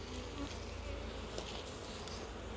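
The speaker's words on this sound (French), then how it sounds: "Les abeilles s'agitent un peu partout" Dense, steady buzzing of agitated honeybees swarming around an open hive frame, a continuous close insect drone with no talk over it.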